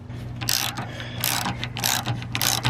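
A ratchet tightening bolts on a Class C RV headlight assembly, loud close bursts of rapid clicking in four short back-and-forth strokes, no talk.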